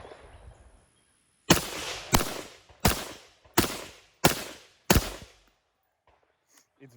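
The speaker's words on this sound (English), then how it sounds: "when we shoot with the Super 42 system, you guys can see how punchy it is" Six suppressed rifle shots fired with a Griffin Armament Super 42 suppressor-optimized buffer system, each a loud sharp crack with a short decaying tail, evenly spaced under a second apart after a quiet start, with no voices.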